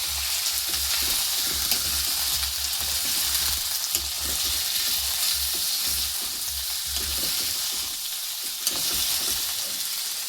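Snails dropped into a pan of browned, sizzling onions and stirred, giving a steady hiss of frying with scraping stirring strokes that continue evenly throughout, with no talking.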